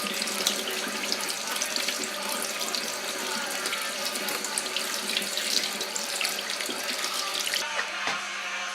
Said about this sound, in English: Because we are baking them, I'm only going to wash them like so.